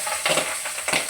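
Pabda fish frying in hot oil crackles up close, a steady sizzle broken by a couple of sharp spitting bursts, with no talking.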